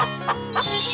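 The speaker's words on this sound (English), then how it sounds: "Chicken." Chicken clucking in a 3D animal slide video game, a short burst of two or three bright cartoonish clucks over a busy game soundtrack, loud and close.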